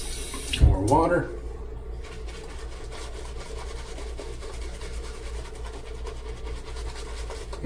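Tap water runs steadily into a sink during a travel shave with a slick lather, a continuous close wash that follows a brief louder splash.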